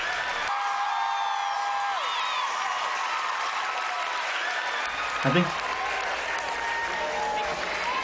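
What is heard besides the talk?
high school crowd cheering and clapping after b-boy performance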